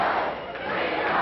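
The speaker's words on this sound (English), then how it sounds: "now the crowd chanting again, "We want Billy, we want Billy."" A wrestling crowd at a best-two-out-of-three main event chants for Billy Jack Haynes, a dense, rhythmic roar of many voices filling the arena, steady and moderately loud across the short stretch.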